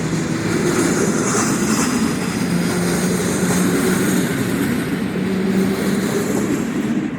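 An Intercity passenger train passes close by in Kołobrzeg, Poland, with a loud, continuous rumble and rattle of wheels and carriages that holds steady throughout.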